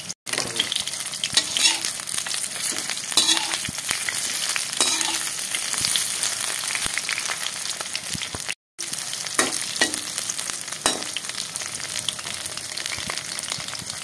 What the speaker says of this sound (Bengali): তো আমি সয়াবিন দিয়ে পকোড়া করলাম।